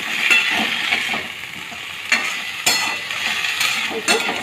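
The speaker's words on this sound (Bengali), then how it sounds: "এখন আমি এটাকে নাড়িয়ে নেবো" Potatoes and punka greens are stirred in a frying pan, a steady close sizzle broken by occasional clinks and scrapes of the utensil against the pan, with no speech.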